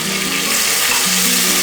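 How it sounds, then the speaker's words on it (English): Onions sizzle loudly in hot oil with ginger garlic paste, a dense, steady frying hiss heard up close for a short moment, with faint background music. "After frying the onions for some time, now we'll add the ginger garlic paste"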